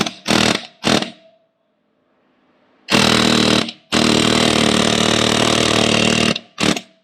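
Pneumatic air hammer with a pointed bit driving into a stuck bolt on a KTM 690 motorcycle, heard as two short bursts, a pause, then a long loud rattling run and a final brief hit.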